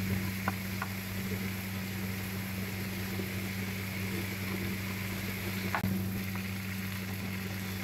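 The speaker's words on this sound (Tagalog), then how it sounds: "ayan po yung ating minarinate sa yogurt. Prito po natin." Yogurt-marinated chicken fries in a pan, a steady hiss and crackle of hot oil with an occasional stir or clink, close and continuous over a low hum.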